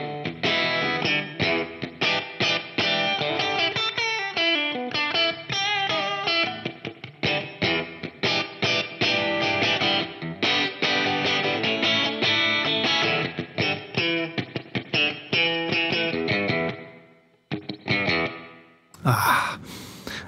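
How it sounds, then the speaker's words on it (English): Electric guitar played through a Line 6 POD GO multi-effects unit with the Hot Springs spring reverb, a run of bright picked chords and notes with a splashy, dripping spring tail, steady and close, stopping briefly near the end. "I'm really happy with the sound of this Hot Springs Reverb"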